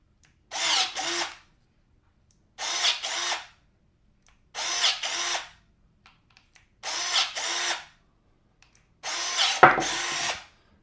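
An MZK battery-powered pruning shear chews into a one-inch branch in five separate loud motorized bursts, each about a second long with brief stutters inside, separated by silent pauses, close by and with no talk.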